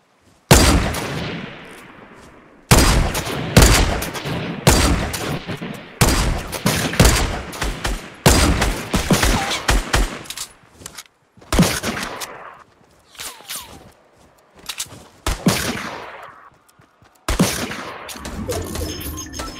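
Gunfire in a Fortnite match, including a light machine gun, coming in loud separate bursts and volleys with short silent gaps between them, some shots ringing out and fading, with no talk over them.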